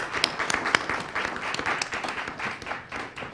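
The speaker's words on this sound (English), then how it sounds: "Applause for Betsy." Audience applause at a panel and party event marking sixty years of bylines, a dense patter of many hands clapping steadily throughout, fairly distant and with no clear speech over it.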